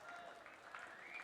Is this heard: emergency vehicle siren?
no